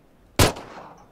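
A single sharp gunshot cracks out in the video game PUBG, loud and close, with a short ringing tail fading over the following half second.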